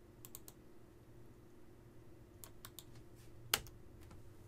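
Typing on a computer keyboard, faint and close, with short bursts of light key clicks separated by pauses over a quiet hum, no talking.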